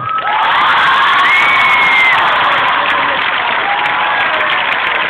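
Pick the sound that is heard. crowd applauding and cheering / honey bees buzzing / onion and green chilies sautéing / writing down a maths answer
crowd applauding and cheering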